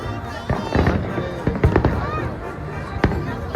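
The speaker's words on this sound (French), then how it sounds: "Tu aimes toi les feux d'artifice aussi, hein?" Fireworks at a late-December celebration pop and crackle in quick bursts, with voices talking over the bangs nearby.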